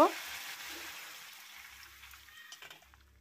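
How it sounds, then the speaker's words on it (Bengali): Chow mein noodles deep frying in oil give off a soft, hissing sizzle that slowly fades, with a few faint clinks in the background. "এই একইভাবে আমি সবগুলো ভেজে নেব"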